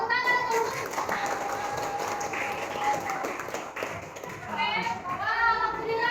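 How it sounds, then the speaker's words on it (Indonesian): Classroom applause from children, a burst of clapping mixed with lively kid voices and chatter at moderate volume, with an adult talking at the start and the end. "Tepuk tangan untuk"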